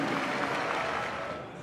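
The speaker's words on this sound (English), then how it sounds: "another round of applause for Dr." A large crowd applauds for a marching band announcer's introduction at a pep rally, a thick, sustained roar of clapping that trails off slightly at the end.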